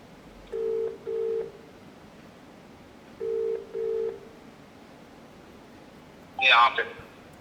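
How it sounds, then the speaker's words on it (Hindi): Phone call to an MLA being placed: two pairs of steady dial beeps in short bursts, followed by a brief burst of noisy ringback or connection sound near the end, with no voices. "चलिए अब चौथी बारी भी हम विधायक जी को फ़ोन लगाकर एक बार और ट्राई कर लेते हैं।"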